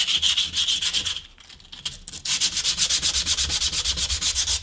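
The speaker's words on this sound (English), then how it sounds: "I just use a little bit of sandpaper to" Sandpaper scrubbing oxide off a forged Damascus steel gyuto knife blade near the edge, loud close rasping strokes in a quick regular back-and-forth rhythm, with a brief pause midway.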